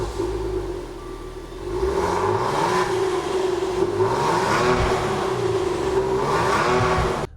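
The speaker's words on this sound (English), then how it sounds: "we're going to go ahead and start it up" A warmed-up 2014 Maserati Quattroporte engine fires and settles into a steady, loud idle near the microphone, then climbs through several rising and falling revs, with no one speaking.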